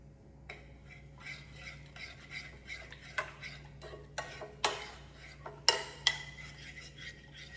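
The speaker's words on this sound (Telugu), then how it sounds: "ఇదంతా బాగా మిక్స్ చేసేసుకుందాం." A spoon stirs and mixes a crunchy vegetable salad in a bowl, giving a run of close, sharp clinks and scrapes at an irregular rhythm over a faint low hum. No one speaks.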